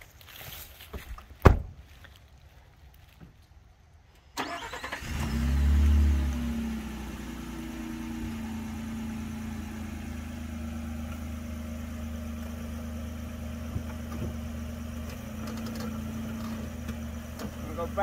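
A vehicle in two-wheel drive starts up after a loud knock, its engine settling into a steady mid-pitched drone that holds for the rest of the stretch.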